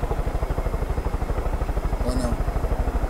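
Helicopter in the video game Far Cry 5, a steady rapid rotor thump that stays close and loud throughout, with a voice speaking over it.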